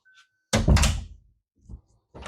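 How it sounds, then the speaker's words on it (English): A kitchen door is swung shut with a solid thunk, followed by a smaller knock of the latch and a later shuffle, all close and loud with no talking. "make sure the door closes properly"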